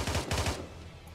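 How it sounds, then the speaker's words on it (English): Rapid automatic gunfire in a first-person shooter battle, a quick burst of about six loud sharp shots in fast succession, followed by a fading echo and tail. "So they're firing across the way."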